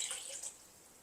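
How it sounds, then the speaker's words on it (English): Water splashes and trickles briefly as six cups are poured into a minestrone soup pot in a crock pot, a short close hiss that fades within a second. "So add 6 cups of water."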